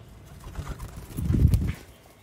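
A rare Sialkoti pigeon on a rooftop gives a short, low, throaty coo that swells in the middle of the clip and fades, heard close against quiet surroundings.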